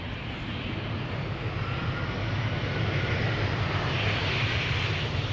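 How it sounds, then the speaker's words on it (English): An EasyJet Airbus A319 arriving at Amsterdam Schiphol Airport after a gentle touchdown, a continuous loud jet roar and rumble that swells slightly toward the end, with no talking. "Now, this is an EasyJet A319 arriving from Geneva."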